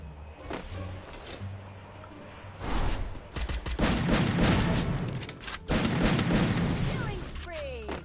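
Gunfire in a shooter video game comes as a series of bursts and single cracks with some heavy booms, sometimes close and loud and sometimes farther off, with a voice talking underneath.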